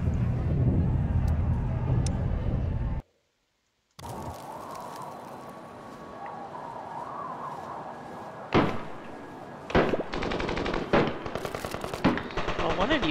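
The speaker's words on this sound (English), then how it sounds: "one of you got a machine gun. You gotta run away." Machine gun fire in the Surviving the Aftermath video game sounds as sharp, loud, rapid bursts in the second half, following a brief silent gap and a stretch of steady background game noise.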